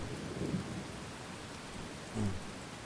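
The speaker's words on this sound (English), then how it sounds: "I love the sound of the rain here." Steady rain falls in a stormy scene in Thronebreaker: The Witcher Tales, with low thunder rumbling through a continuous wash of rainfall, a heavier roll of thunder near the end.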